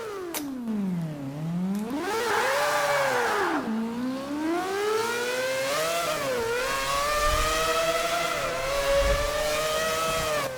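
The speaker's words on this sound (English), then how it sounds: "You don't even want to brake, you just want to keep accelerating to hear that car." A race car engine in Forza Motorsport 7 revs and accelerates continuously, its whine rising and falling through gear shifts, loud and close with no talking.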